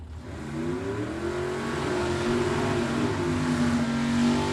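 Drag race cars, a Chevy Vega wagon and a 1971 Chevelle, launch down the strip with rising engine roars whose pitch climbs through gears, heard from a distance and growing gradually louder.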